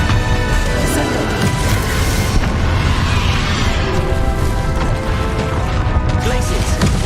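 The Descendo spell slams an enemy down during combat in Hogwarts Legacy, a loud dense stretch of crashing booms, thuds and whooshing impacts over a busy game soundtrack.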